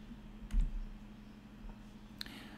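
A computer mouse gives a couple of faint, isolated clicks over a quiet room hum, one early and one near the end.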